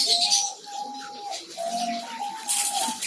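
Several diamond doves in a breeding enclosure give soft, drawn-out coos one after another at close range, with faint rustling between calls.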